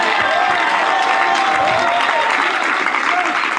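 A church congregation claps and cheers steadily for the pastor's wife, a loud, dense wash of applause filling the hall.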